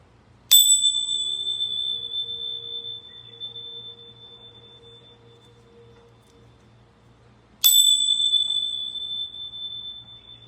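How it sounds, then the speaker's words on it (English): Two bright, clear bell strikes ring out several seconds apart before a card reading, each one sustaining a long, pure, slowly fading tone in an otherwise quiet room. "ring my bells"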